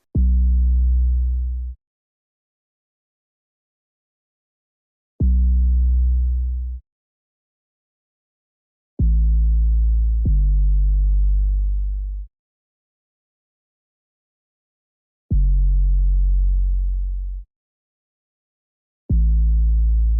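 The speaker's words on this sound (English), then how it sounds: "which is this 808 right over here." Deep 808 bass notes in a beat boom alone, each long and sustained before cutting off, falling in an uneven rhythm with silent gaps between them and two notes sounding back to back.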